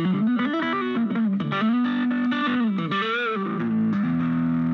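Gibson Les Paul electric guitar played with heavy distortion, a sustained, bending lead line with vibrato and gliding notes, loud and close with no talking.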